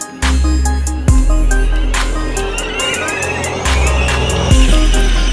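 A car being driven and accelerated, its engine loud and close with rising revs that surge and drop several times, sharp high squealing tones and whines riding over the low drone.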